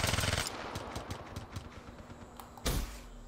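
Gunfire in a Call of Duty Black Ops 3 free-for-all match, a loud burst at the start, a rapid run of quieter shots, then a second sharp blast near the end, with no talking.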